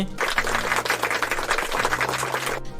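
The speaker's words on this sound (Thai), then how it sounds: "ปรบมือให้เพื่อนๆหน่อย" A group of students clapping together at a school student council event, a dense, steady burst of applause over a low musical tone that stops abruptly near the end.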